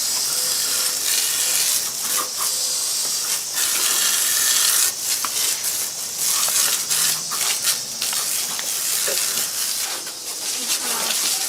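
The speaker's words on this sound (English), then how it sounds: "Spray again." Broad, steady hissing of an aerosol spray in several long bursts, fairly close, with short gaps between sprays and some faint background noise.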